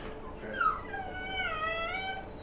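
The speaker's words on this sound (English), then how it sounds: "Guess the puppy's awake." A puppy whimpers nearby in a kitchen, thin rising and falling whines that run together over soft background noise.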